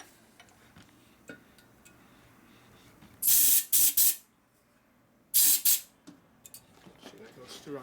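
Two loud bursts of compressed air hiss through a long nozzle into a hole in a 1947 Harley-Davidson EL Knucklehead 74ci engine case, each bursting in short pulses with quiet shop noise between.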